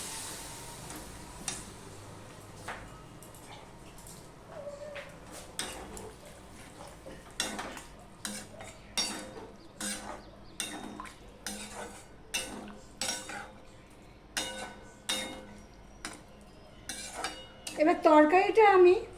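Vegetarian fish-egg curry being stirred and sautéed in a pan with Kashmiri chilli powder: a steady series of sharp spoon-against-pan clicks and scrapes at close range over a low sizzle, growing busier and louder near the end.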